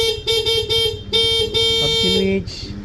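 A stock horn on a Honda Click V2 scooter honks in a series of short and long blasts, bright and nasal, with the engine idling underneath.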